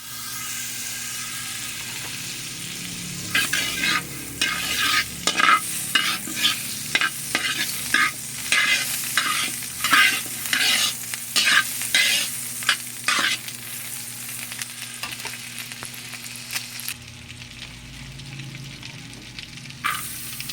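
Sauce for a no-bake macaroni dish cooks in a hot pan, a steady sizzle overlaid by a long run of rhythmic spoon scrapes and stirring strokes that stop near the end, leaving a quieter sizzle, with no talking.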